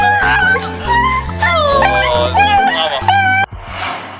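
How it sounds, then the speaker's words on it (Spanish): A puppy greeting its owner, whimpering and yipping excitedly in a rapid run of high, wavering cries and squeals, loud and close, ending in a brief rushing noise. "empezó a hacer sonidos que personalmente no sabía que podía ser un perro"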